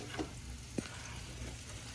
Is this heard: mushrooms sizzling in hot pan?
yes